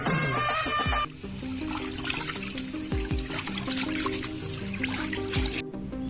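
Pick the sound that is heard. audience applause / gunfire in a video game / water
water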